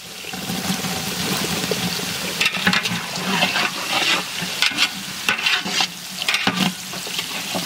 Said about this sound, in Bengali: বিনস অনেকটা ভাজা হয়ে গেছে, আমি দিয়ে দেবো গাজর